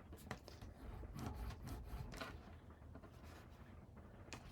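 Paper being burnished for a handmade mini album makes soft, close, repeated rubbing and scraping strokes, steady and quiet throughout.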